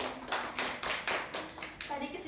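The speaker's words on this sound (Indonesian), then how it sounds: "Belikan tepuk tangan untuk Raffi." A classroom of students claps together during a micro-teaching lesson, several loud, slightly uneven bursts of hand clapping in quick succession while a voice speaks over them.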